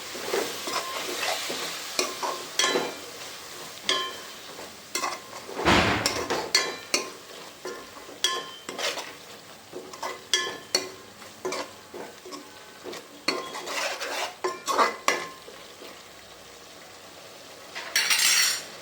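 Vegetables and fenugreek leaves being stirred and mixed in a frying pan, with repeated scraping and clinking of a spoon against the pan over a soft sizzle, close and steady throughout with brief louder knocks.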